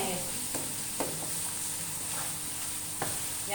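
Minced beef keema frying in ghee in a karahi, a steady sizzle broken by several light spatula stirs and scrapes at irregular intervals.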